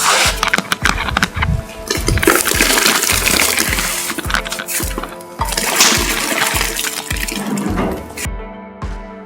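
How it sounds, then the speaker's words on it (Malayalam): Cut tapioca pieces splash and plop into a pot of boiling water, with a steady watery rush and regular soft thuds throughout. "അതിലേക്ക് നമ്മൾ കട്ട് ചെയ്ത് വെച്ച കപ്പ ഇതുപോലെ ഇട്ട് കൊടുക്കണം."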